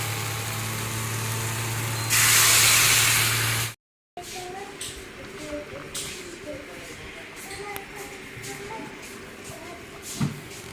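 Water poured over fried vegetables in a hot pan on the stove hisses loudly for about two seconds over a steady low hum. It then cuts off abruptly and gives way to quieter kitchen clatter.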